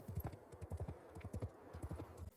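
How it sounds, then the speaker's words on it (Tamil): Horse hooves gallop fast as a rider heads toward Mecca, a quick, steady clip-clop of repeated thuds, close and moderately loud, with no voices over it. "அபூ சுபியான் சொன்னதை கேட்டு அவனும் குதிரையில் வேகமாக மக்கா நகரை நோக்கி செல்கிறான்"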